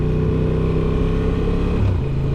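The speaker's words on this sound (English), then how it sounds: "Starting the bike up this morning, absolutely beautiful growl from that standard exhaust" Honda Transalp XL750 motorcycle on its standard exhaust, idling with a steady, loud, close low growl that holds throughout and dips slightly in pitch near the end.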